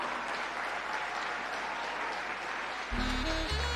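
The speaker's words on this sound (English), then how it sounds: "Clap them, man. Clap them louder." Audience at a hotel resort anniversary gala applauding tourism-industry awardees with steady, sustained clapping, a broad even wash of many hands, then a low voice cuts in near the end.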